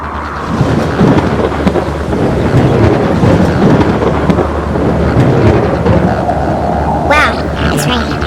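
A cartoon storm in a car city brings heavy rain and rumbling thunder under gusty wind, with a short bright tone rising near the end.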